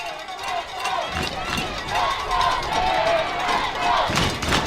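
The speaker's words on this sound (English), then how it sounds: "Here the Bear fans starting to cheer and chant" Bear fans cheer and chant in the stands at an 11U youth football championship game, a broad, steady crowd roar with rising swells, heard under a commentator's voice.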